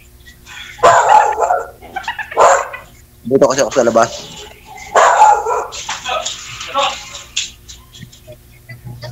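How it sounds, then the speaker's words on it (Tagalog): Several dogs bark angrily outdoors in loud, repeated bursts, mixing sharp barks with yips and overlapping a voice talking nearby. "Nagalit yung mga aso."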